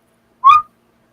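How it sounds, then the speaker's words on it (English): One short, clear whistle on a tape recording, a single bright rising note lasting about a quarter second against total silence. "Just one little whistle."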